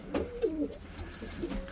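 Pigeons coo softly nearby, several low throaty rolling calls repeating in a loose rhythm against a quiet background.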